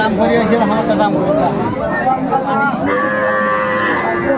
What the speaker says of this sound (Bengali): চমৎকার একটি গাভী